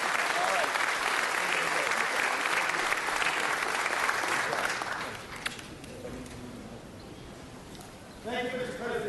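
At a city council meeting, the room gives a full round of applause that carries steadily for about five seconds before fading, followed by a quieter stretch and a voice speaking near the end.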